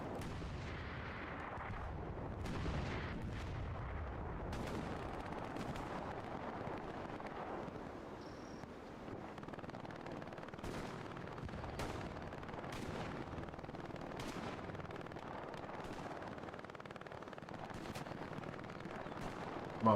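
Machine gun fire in a video game, heard as scattered sharp bursts and distant booming shots over a rumbling battlefield with wind noise, fairly faint and spread across the whole stretch, with no talking.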